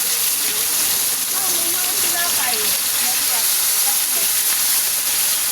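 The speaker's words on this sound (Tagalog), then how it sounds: "Yan guys, nagpiprito na tayo." Steady, hissing sizzle of food frying in hot oil, with crackles and small pops throughout at close range.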